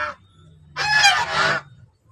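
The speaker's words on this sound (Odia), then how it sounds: "ଏଇଠି ଦେଖନ୍ତୁ ବତକ" A duck gives a loud, nasal quacking call that runs for nearly a second, with a short, softer squawk just before it, heard close up against a quiet background.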